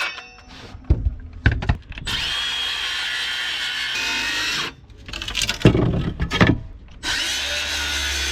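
A power saw rips through wood offsets for a wooden boat restoration in several loud cutting bursts, with brief pauses and motor whine between cuts, close by.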